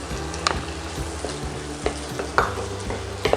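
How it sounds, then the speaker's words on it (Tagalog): Onion and tomatoes sauté in reheated oil in a pan, a busy close sizzle punctuated by repeated clinks and scrapes of a utensil stirring. "Igigisa natin yung onion."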